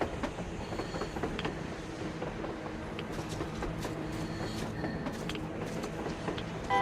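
A train rolls along surface rails in the post-apocalyptic game Metro Exodus, a steady dense rumble of wheels and carriages with scattered metallic clicks and faint squeals, continuous and fairly close throughout.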